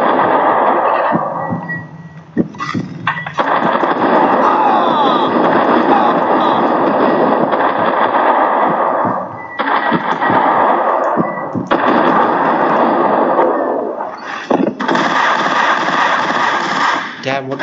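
Gunfire in the shooter game Max Payne, a loud, dense stretch of rattling shots and harsh bursts that drops out briefly several times before resuming, with no talk over it.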